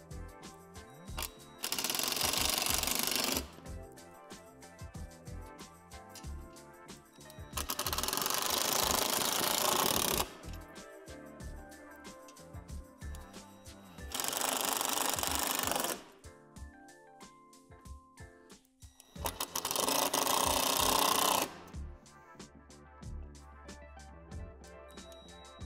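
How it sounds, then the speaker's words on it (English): A power drill drives screws into the door hardware of a Lifetime plastic utility shed in four separate bursts of whirring, each about two seconds long, with quiet handling noises in between. "Using a drill will make this step easier."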